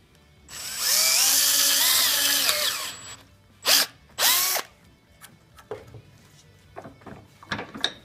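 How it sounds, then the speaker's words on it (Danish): A power drill bores a hole in a homemade wooden owl with one long whining burst, followed by two short revving bursts and a few clicks, close and loud. "Og så skal vi lave et hul i ulen."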